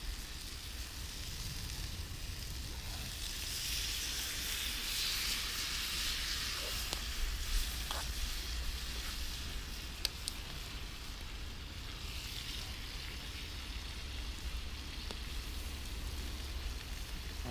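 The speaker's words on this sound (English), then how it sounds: "Let that sizzle." Marinated fillet steak sizzles steadily over hot campfire coals in a constant, close, crackling hiss that runs without pause.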